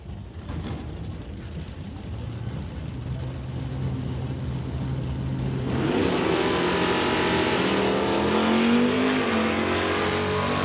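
A Super Combo class drag racing car roars past at speed, its engine building from a moderate rumble into a loud, sustained full-throttle blast that holds steady to the end, with no speech.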